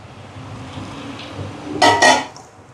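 A metal spoon stirs ground fish curry paste for seela fish kuzhambu in a pot, a quiet soft scraping followed by two distinct loud clanks of the utensil against the pot rim.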